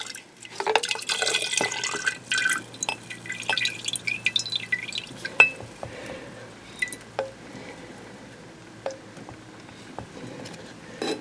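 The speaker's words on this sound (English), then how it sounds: "Now it's going to drain into the bucket" Fuel drains from a loosened Mercruiser 4.5 L Alpha 1 fuel filter into a bucket, a light trickle and splashing that starts busier, then thins to scattered drips, close and quiet.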